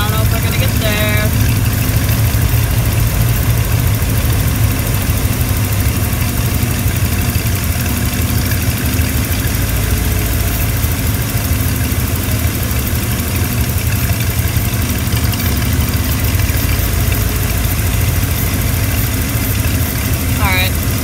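A Ford Bronco's 5.8L V8 idles steadily with its fuel pressure regulator disconnected, a continuous low rumble with a faint knocking tick, close and loud, with no talk over it.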